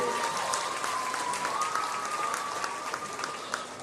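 Audience applause at a show ring during a county buckwheat festival, steady moderate clapping from a crowd, somewhat distant, with a faint tone running underneath.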